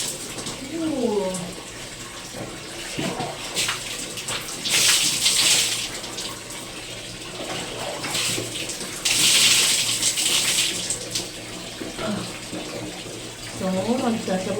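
Shower water runs steadily during a cold bath, with louder gushing bursts as the spray hits, and a person talks over it at times.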